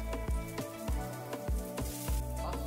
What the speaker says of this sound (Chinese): 一个一个的把马铃薯翻个面，让它的其他这个几面也都稍微煎一煎啊